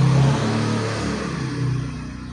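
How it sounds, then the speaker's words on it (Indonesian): Motorbike engine revving outside, a loud droning rumble that swells and eases over a couple of seconds, heard alone without talk. "Aduh maaf, ada suara motor nih."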